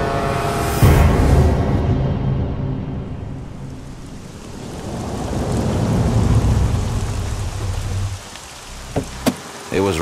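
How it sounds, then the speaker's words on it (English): Heavy rain pours steadily for the full stretch as thunder rumbles, with a loud crack near the start and a rolling swell midway, then a few sharp splashes or knocks near the end, staged as a storm for an audio drama. "It was raining heavily when we arrived at the gates of the Black Keep"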